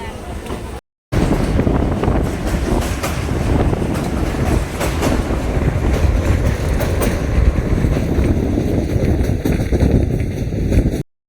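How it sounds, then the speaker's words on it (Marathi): The Begumpura Express rolls out of Jammu Tawi station, a loud continuous rumble with rhythmic clickety-clack of wheels on rail joints and wind buffeting the microphone, briefly cut out near the start. "जम्मू तवी जे रेल्वे स्टेशन आहे ते सोडलं आहे आपण आणि गाडी आपली निघायला लागली बाहेर"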